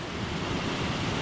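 Water rushing over a river dam near a bridge makes a steady, dense roar that holds at an even level throughout, with no voices.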